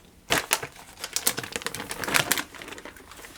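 Packaged prosciutto being unwrapped while making beef Wellington, a close run of loud crinkling and crackling plastic bursts that fades to quiet at the end.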